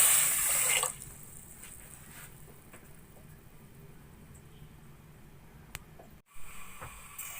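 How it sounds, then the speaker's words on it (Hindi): A glass of water poured into a pan of sugar for semolina halwa syrup, a loud splashing pour in the first second that gives way to a quiet, steady background. "1 गिलास पानी का शामिल कर लूंगी"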